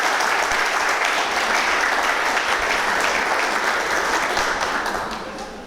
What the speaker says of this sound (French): je vous demande de l'applaudir au violon